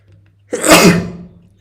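A single loud, close sneeze bursts out sharply and trails off over about a second, set against a low steady electrical hum in an indoor live-trading setup.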